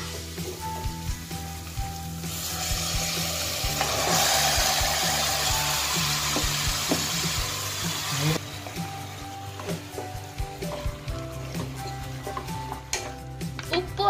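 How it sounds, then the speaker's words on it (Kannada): Marinated mutton sizzles in a pan with fried onions for a Mangalore-style mutton curry, a steady frying hiss broken by clinks and scraping stirs, close up with no talking. "ಇವಾಗ ಇದನ್ನ ನಾವು ಫ್ರೈ ಮಾಡಿಟ್ಟಿರೋ ಆ ಈರುಳ್ಳಿ ಒಳಗೆಲ್ಲ ಹಾಕೊಳ್ಳೋಣ"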